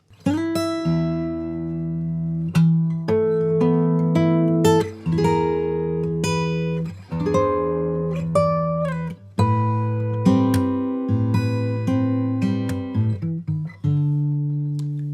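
Guitar part played slowly, a looping sequence of plucked, sustained notes and chords repeating in steady phrases, close and clear with no talking.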